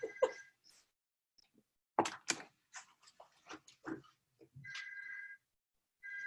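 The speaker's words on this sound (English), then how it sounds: "my buzzer is ringing" An electronic buzzer rings in steady, tonal bursts, with a voice speaking briefly between the rings; fairly quiet overall.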